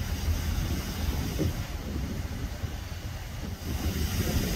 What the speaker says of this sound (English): He's going to switch locomotives, and he's going to run the head end on the other side.